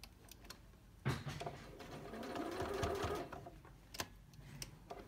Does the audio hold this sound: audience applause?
no